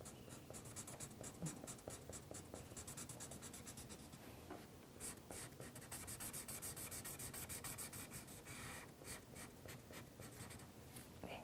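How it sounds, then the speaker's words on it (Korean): Pen or marker coloring in long strokes across a sheet, a steady close scratching and rubbing with rhythmic back-and-forth bursts, continuous and alone without talk. "한번 칠해 보도록 할게요"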